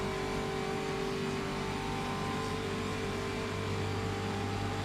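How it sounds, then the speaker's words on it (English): Race car engine in a racing video game, a steady sustained drone with strong tonal harmonics holding a fairly even pitch throughout, no clear lift-off or rev change, loud and continuous with no talk. "Might hear the engine note change in a second as Jernej lifts off the throttle."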